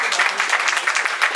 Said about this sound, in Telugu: దీనికి చప్పట్లు కొట్టాలి అమ్మా।